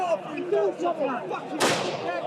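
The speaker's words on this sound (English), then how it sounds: "Oh, firework." A firework or flashbang goes off at a street riot. One sharp bang rises out of crowd noise and shouting, near and loud, over steady chatter from the crowd.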